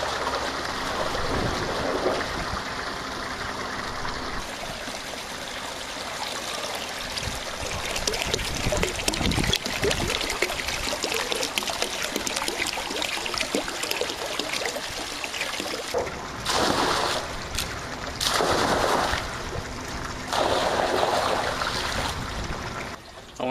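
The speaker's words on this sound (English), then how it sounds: "take the bucket and pour it around the perimeter of the pool." Water is poured from a bucket around the perimeter of a swimming pool, a continuous splashing trickle that surges and eases in waves, close by and moderately loud, with no voices.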